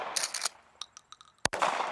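A less-lethal Superstar projectile fired from a launcher gives one sharp, loud report, with scattered clicks and handling noises before it and a brief trailing rush after.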